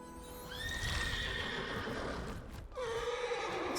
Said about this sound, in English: Standard horse mount special.